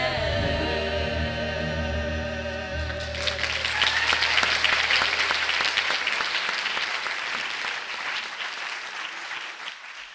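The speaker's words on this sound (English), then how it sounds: "another round of applause for the gospel choir" Applause for the gospel choir at a 9/11 ceremony breaks out as the choir's final sustained chord fades, a dense crowd of clapping hands that swells, stays steady and slowly thins toward the end.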